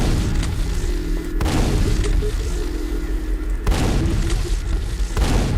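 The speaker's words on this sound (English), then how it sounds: "Let's just lob some grenades down there then." Grenades exploding in the Quake video game, a series of heavy booming blasts spaced a second or more apart with rumbling tails, loud and close over continuous game ambience.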